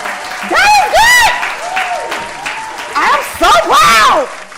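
An audience at a business talk claps, with loud whoops and cheering voices rising and falling over the applause in several bursts.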